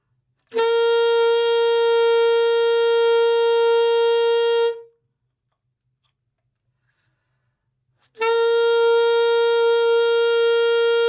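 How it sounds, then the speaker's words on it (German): Two long, steady pure tones of the tuning reference note G a few seconds apart, each held for about four seconds at one pitch, with silence in between and no voices. "das war der Stimmton G"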